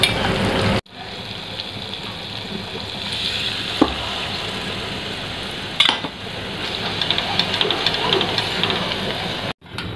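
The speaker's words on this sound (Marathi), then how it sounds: "आता आपण याच्यामध्ये अंदाजानुसार पाणी टाकूया।" Water is poured into hot masala frying in a pan for a Khandeshi cowpea-seed curry with peanuts, giving a loud, continuous sizzle and gushing hiss with a few sharp clinks, close up.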